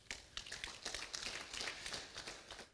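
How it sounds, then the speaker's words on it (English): Scattered applause from a small conference audience, the individual claps distinct and irregular, fairly quiet and sparse throughout with no voices. "Please, can you give him a hand of applause?"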